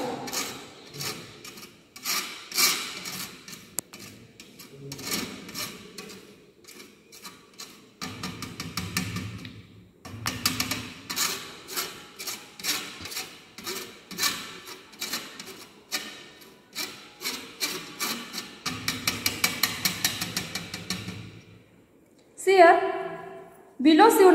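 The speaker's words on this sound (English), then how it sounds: "pass granules from sieve number 18 okay by using spatula" Paracetamol granules pressed and rubbed through a number 18 sieve with a spatula, a repeated close scraping and rasping in uneven strokes throughout, with occasional talk.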